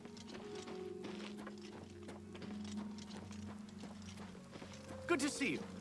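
Hoofbeats of a horse being ridden in the remastered Oblivion game plod along steadily at a moderate distance, mixed with a low droning game soundtrack and a brief brighter effect near the end.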